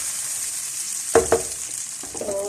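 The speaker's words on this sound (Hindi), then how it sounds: "टमाटर ऐड कर देंगे, इसको फ्राई कर लेंगे और साथ ही मैं तमाम स्पाइसेस भी ऐड कर देती हूँ।" Tomatoes sizzle with ginger garlic paste in a pan while making vegetable qorma, a steady high hiss punctuated by a few sharp stirring clinks near the middle and end, without speech.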